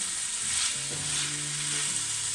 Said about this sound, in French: vous remuez et vous faites revenir tout ça.